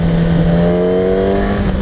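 A 2015 Kawasaki Ninja ZX-10R cruising at speed with its engine holding a loud, steady high-rpm drone, the pitch climbing slightly, heard up close from the rider's position without talk.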